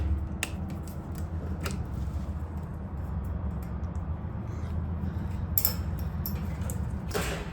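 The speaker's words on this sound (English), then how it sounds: "Unhook the two clips from the gas valve underneath." Small metallic clicks and snaps come from two clips being unhooked underneath a furnace gas valve, a few sharp ticks scattered over a low steady hum, with one brighter rattle near the end.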